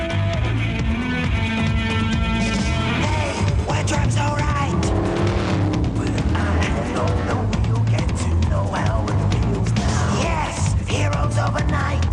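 Classic saloon race cars forming up for a rolling start at the 1991 Pinepac Classic Saloons Enduro, a 50-lap race, with loud continuous engine roar and revving filling the scene and a crowd voice briefly shouting over it.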